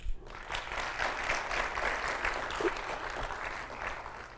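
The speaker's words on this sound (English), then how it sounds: "May we have a round of applause," Audience applause at a Goldman Sachs-ISB graduation ceremony, a steady, moderately faint wash of many hands clapping in a hall, without talk.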